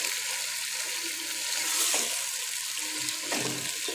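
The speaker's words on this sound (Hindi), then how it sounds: "इनको उस वक्त तक भूनेंगे जब तक ये हमारा चिकन जो है वाइट हो जाए" Chicken fries in a pot for dum biryani, giving a steady moderate sizzle with a few soft stirring knocks and clatters, no voice.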